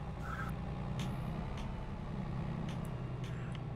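Steady low engine rumble of a truck driving in the Farming Simulator 22 video game, continuous and fairly loud with faint higher ticks and a brief tone near the start, no talking.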